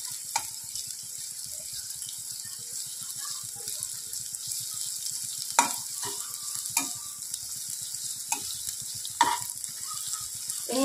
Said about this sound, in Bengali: পিঁয়াজ কু ভাল ভাবে ভাজি দেবা